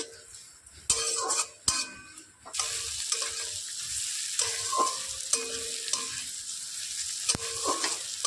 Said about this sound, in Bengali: দুটো মিডিয়াম সাইজের পেঁয়াজ ছোট টুকরো করে কেটে নিয়েছি, দিয়ে দিচ্ছি। পেঁয়াজগুলোকে ভালো করে নাড়াচাড়া করে নেব।